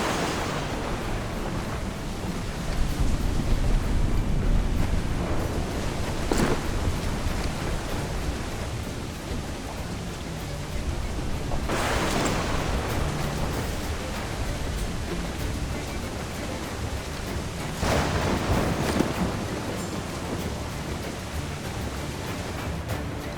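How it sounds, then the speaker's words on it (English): A storm at sea in Assassin's Creed IV Black Flag, with steady broadband rain, wind and waves and several louder swells or rumbles rising and fading across the stretch. "Storm, Captain! Looks bad!"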